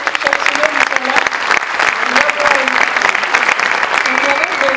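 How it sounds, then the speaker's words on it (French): A conference room full of people clapping steadily and loudly, with a voice speaking over the applause at times. "on peut applaudir nos différents responsables"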